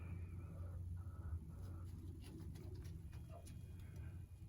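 Racing pigeons, one to five years old, in a loft make a low, steady murmur of cooing and soft rustling, with faint scattered clicks and flutters above it throughout.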